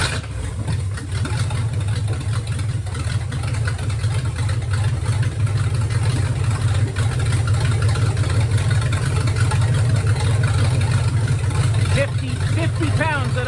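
Freshly started LT1 V8 with a 4x conversion running an LS PCM, swapped into a 1961 Rambler frame, idling loud and steady with a deep low rumble throughout, close by, with people talking over it.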